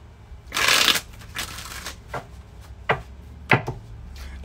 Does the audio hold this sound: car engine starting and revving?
no